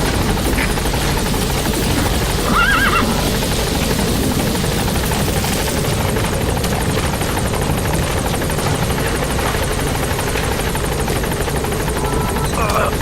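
Helicopter arriving in Metal Gear Solid V: The Phantom Pain, a loud, steady rotor drone holding for the whole stretch, with faint game effects over it.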